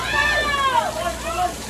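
Heavy rain pours onto a grandstand during a street dancing festival in Cagayan de Oro, a steady, dense wash of falling water heard close up while someone talks over it.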